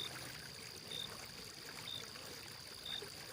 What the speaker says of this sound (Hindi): उस सन्नाटे में बस पानी और झिंगुरों की आवाज ही सुनाई दे रही थी।